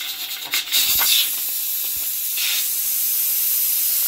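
A pressure cooker releasing steam in a kitchen after cooking Peshawari namkeen gosht, a strong continuous hiss with a sharper burst near the start, close and loud.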